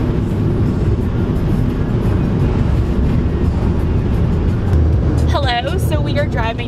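A car drives along with a loud, steady road and engine rumble throughout, and a voice chatters over the noise near the end.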